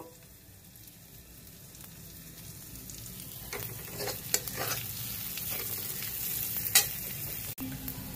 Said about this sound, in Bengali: এই দুটোকে মিক্স করে গ্রেভির জন্য আমি একটা হালকা ব্যাটার বানিয়ে নেব।